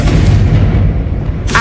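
The Confringo fire spell in the video game Hogwarts Legacy erupts as a loud, close, booming blast with a rumbling tail, followed by a sharp crackling burst at the end.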